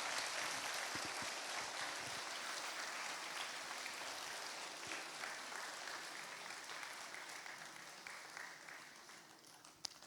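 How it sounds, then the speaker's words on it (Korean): A church congregation claps together during a Sunday service, dense steady applause that fills the room and slowly thins toward the end, mixed with faint crowd murmur. "다시 한 번 더 우리 뜨겁게 박수 해주시기 바랍니다"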